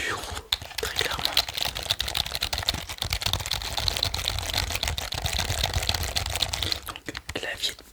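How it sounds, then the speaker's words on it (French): Flat-key HP office keyboard being typed on in dense, continuous clicking bursts, close and steady throughout, with a few heavier key strikes standing out. "Donc clavier de bureau à touche plate, HP, marque très connue, très réputée et grand public"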